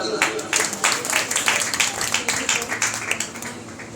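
An audience claps together in steady, dense applause that carries through the whole stretch, loud and close, with no voices over it.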